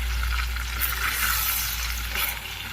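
Mushroom pieces fry in a pan for butter chilli mushroom as they are stirred, with a dense, continuous sizzle and crackle close by and a low hum underneath.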